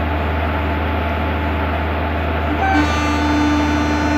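In Train Simulator Classic, the Garib Rath Express sits with a loud, steady locomotive hum and rumble, then a horn-like tone joins partway through and holds as the train gets under way.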